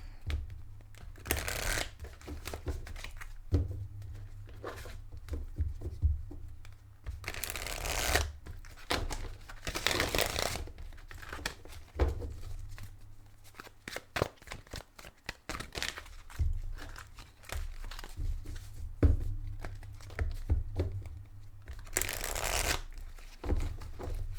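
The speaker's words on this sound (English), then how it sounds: "Now goes this crazy shuffling." Crisp, rapid card shuffling in repeated bursts, riffling and snapping close by with short pauses between rounds.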